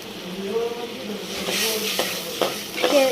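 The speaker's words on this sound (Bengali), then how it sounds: "পেঁয়াজ, কাঁচামরিচও দিচ্ছি, রসুনও দিচ্ছি, সব দিচ্ছি। তারপরে এখন কষাচ্ছি ভালো করে।" Onion, green chili and garlic sauté in a pan, with a crackling sizzle under scraping stirring strokes that sharpen toward the end; a voice is faintly present in the background.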